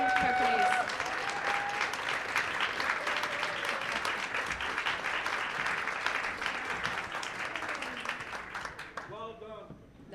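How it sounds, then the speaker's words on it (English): A large conference audience at a Calgary innovation week kickoff event applauds steadily and loudly for about nine seconds before the clapping fades out. "stand up and let's applaud the risk takers and builders and resilience of the people that are here"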